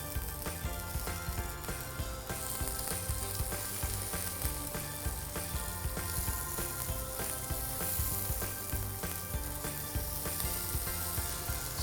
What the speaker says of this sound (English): Now our oil is hot. We'll start adding tofu into it.